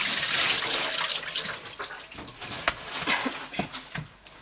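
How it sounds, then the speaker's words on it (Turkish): Cold tap water runs and splashes while homemade butter is washed by hand in a bowl, a loud continuous gush that thins into irregular splashes and drips. "Ayranı gidinceye kadar yağ bu şekilde yıkanıyor. Soğuk suyla."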